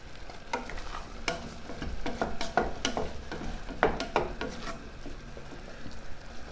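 Shrimp frying in a hot pan give a low steady sizzle, broken by irregular clicks and scrapes of a utensil stirring them, close by with no voices.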